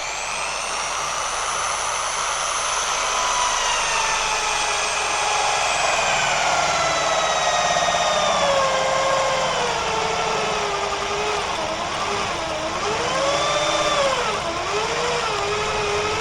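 A power drill bores partway into a common-rail injector phone charger, its motor whining steadily at high pitch and sliding down in tone as it loads up, then revving in short dips near the end, with no talking.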